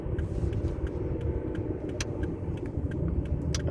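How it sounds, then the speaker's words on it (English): A car engine strains after a long drive of almost 500 miles, a steady loud rumble with a constant low drone and faint ticking clicks running throughout. "That's my car. We're in a bit of trouble here. Making that noise."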